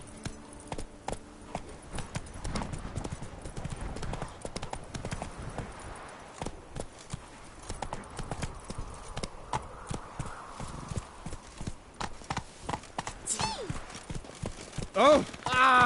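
Roach, Geralt's horse in The Witcher 3 Blood and Wine, trots with a steady clip-clop of hooves under game music and ambience, with a short burst of other sound near the end.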